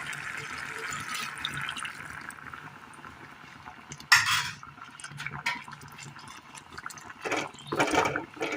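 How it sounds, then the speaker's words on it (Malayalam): Warm water swirled around a pan to rinse it and then poured into simmering curry: a quiet steady trickle, a sudden splash, then more pouring and light metallic clinks, close by. "ചെറു ചൂടുവെള്ളത്തിൽ ആ പാനൊന്ന് കഴുകി ഒഴിക്കാം"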